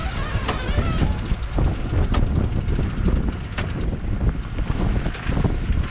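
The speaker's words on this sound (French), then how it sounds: "hissage du génois dans 25 nœuds de vent" Strong 25-knot headwind roars steadily across the microphone on a sailboat crossing the Atlantic as the genoa is hoisted, with rushing water and flapping, rattling sounds of rigging throughout.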